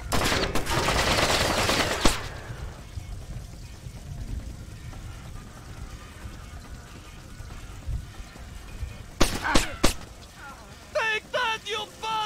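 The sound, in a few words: gunfire in video game Splinter Cell Chaos Theory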